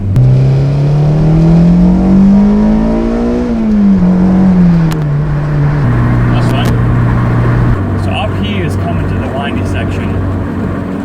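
A Honda S2000 engine revving up and shifting through gears with a manual clutch, hitting VTEC, pitch rising then dropping with each change, loud and close, with wind noise and a voice over it.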